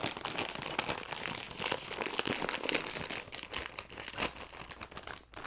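A Takis Cobra chips bag torn open by hand, with crinkly, crackling plastic rustling in quick bursts for several seconds, fairly close and without talk.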